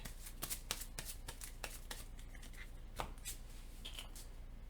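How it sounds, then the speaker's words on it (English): Rapid riffling and snapping of a deck of playing cards being shuffled during a Marvel Legendary card game, a quick series of crisp clicks close by with faint background noise. "Shuffle the deck."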